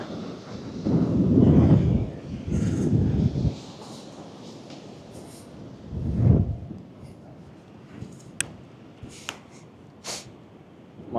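Wind buffets the microphone during an outdoor ride on a 500-watt folding mini e-bike, with loud low rumbling gusts early and again midway, then a quieter stretch with scattered light knocks.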